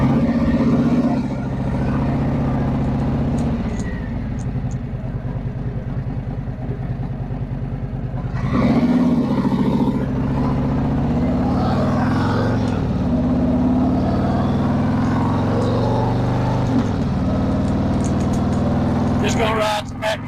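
A Harley Road Glide with a 122ci Stage 3 engine rides along back country roads, its deep engine drone loud and steady throughout, with a few swells of throttle and heavy wind rumble.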